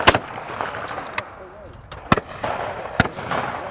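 Shotgun shots ring out at a trap shooting range during the Beretta World Sporting Championship: about four sharp, separate bangs a second or so apart, some close and loud, others more distant, over low outdoor background.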